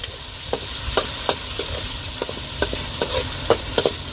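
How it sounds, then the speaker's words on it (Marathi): Village-style spice paste with garlic-ginger paste frying in a pan for fish curry, a steady close sizzle with scattered scraping clicks of a spoon stirring, no talking. "वाटण आपलं भाजतंय चांगलं."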